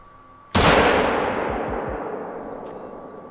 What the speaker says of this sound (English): We're gonna try and take a shot right now.